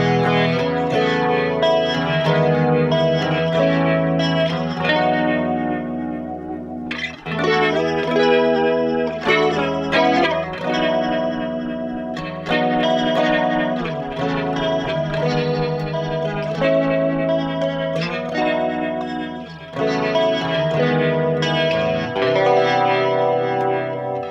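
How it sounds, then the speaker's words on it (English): 1965 Wurlitzer Spectratone organ played through a rotating speaker, sustained chords swirling with a warbling, wavering shimmer, loud and continuous with a few brief breaks between phrases. "It's a rotating speaker."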